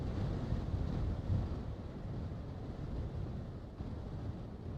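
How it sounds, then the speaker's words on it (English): Strong night wind outdoors buffets the microphone in a dense, continuous low roar that holds steady and loud throughout, with no voices. "That wind is ripping."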